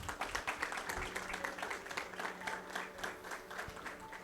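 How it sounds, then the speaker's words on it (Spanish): Church congregation breaking into applause, a dense, steady wash of many hands clapping at moderate volume throughout, with faint room murmur underneath. "Démosle el aplauso al Señor."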